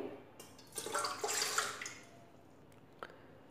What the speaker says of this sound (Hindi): अब हम इसमें एक गिलास पानी डाल देंगे